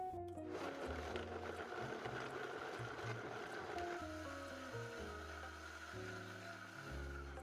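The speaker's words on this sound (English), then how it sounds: "The total blend time was 1 minute on the Vitamix." A Vitamix blender purees chili sauce, its motor whirring steadily and stepping through changing speeds with a churning, rumbling tone, close but moderately quiet, without talking.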